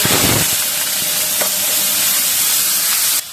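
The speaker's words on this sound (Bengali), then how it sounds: "পেঁয়াজের ভিতরে একটু জল আসলো, তাই ফ্যাট করে উঠলো।" Onions frying in hot oil in a home kitchen give a loud, close, steady sizzle with a sputtering crackle at the start, cutting off abruptly near the end.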